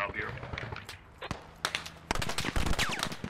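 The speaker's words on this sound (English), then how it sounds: "There's an enemy 50 cal out to the west." Enemy .50 caliber machine gun firing in the military shooter Squad, rapid bursts from a distance mixed with other gunfire, footsteps and voices talking over the action.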